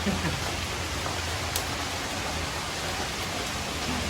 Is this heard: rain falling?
yes